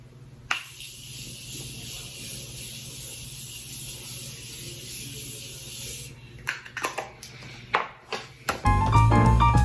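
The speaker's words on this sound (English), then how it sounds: "Now to finish everything off, I'm gonna go in with my Morphe setting spray" A long, steady hiss of makeup setting spray mist runs for several seconds. It then stops, giving way to light handling clicks and a low rumble at the end.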